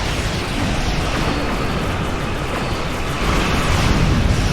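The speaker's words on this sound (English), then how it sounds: "Get us out of the range of the explosion." A battleship explodes in the space combat game Star Trek Online, a loud, sustained roaring rumble that fills the whole stretch without a break, swelling slightly toward the end, with no voices over it.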